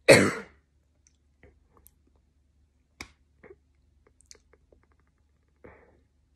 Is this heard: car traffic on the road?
no